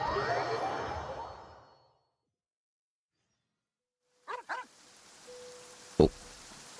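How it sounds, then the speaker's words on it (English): Dog barking in the video game Genshin Impact, two quick barks in a row around the middle, followed by a sharp single bark, set against soft rain-like ambience after an earlier stretch of music. "I hear a dog."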